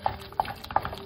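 Pav bhaji vegetables being stirred in a pan with spices: three regular scraping strokes of a spoon over a faint sizzle, close and fairly quiet.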